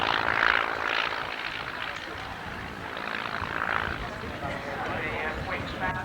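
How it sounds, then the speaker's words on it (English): At an airshow a biplane flies past waggling its wings, its propeller engine a steady droning roar that swells and fades slightly, heard under a commentator talking over a public address. "Moving against the right with a wing waggle there, Mark Hanna, the aircraft tipping from one wing to the other"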